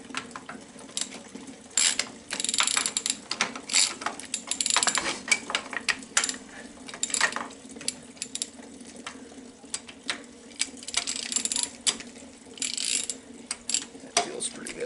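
Bolts on a Farmall Cub tractor are loosened with a wrench, giving repeated bursts of ratcheting and metallic clicks in uneven clusters, close and moderately loud, with brief pauses between turns.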